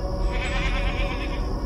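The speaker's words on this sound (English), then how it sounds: "Is that a sheep?" Sheep or goat bleating in a CGI monster compilation, a single loud, close, wavering bleat that carries through the whole short moment without any talk.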